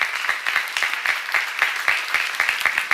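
A church congregation claps in a quick, steady rhythm of sharp, fairly close hand claps that keep going without a break.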